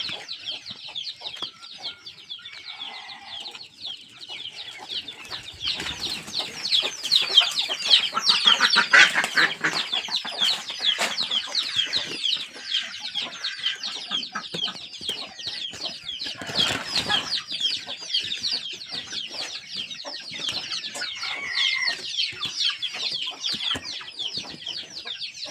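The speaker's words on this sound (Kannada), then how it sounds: "ಕೋಳಿಗಳೆಲ್ಲ ಹೆಂಗೆ ಬರುತ್ತೆ ನೋಡಿ" A dense flock of chickens clucking and squawking at a poultry farm, continuous overlapping calls with bursts of wing flapping, building louder in the middle before settling to a steady clamor.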